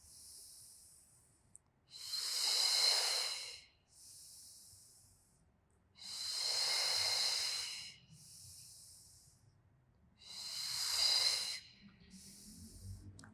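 Slow, deep breaths during a relaxing Pilates stretch: three long, airy inhale-exhale swells a few seconds each, close and steady, separated by quiet gaps with a faint higher hiss between them.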